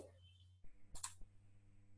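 A single quick mouse click while working in Photoshop, crisp and close against a quiet room hum, with faint speech nearby.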